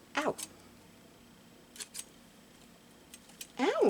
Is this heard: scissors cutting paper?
yes